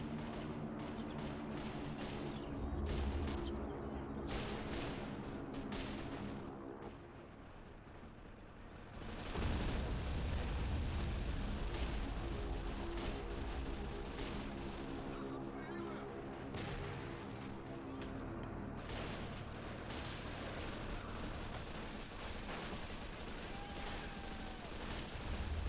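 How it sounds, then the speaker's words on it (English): MG42 machine gun fire in the Men of War: Assault Squad 2 video game, with dense, continuous battle gunfire and booming explosions throughout, and voices talking over the din. "MG42s are doing good work."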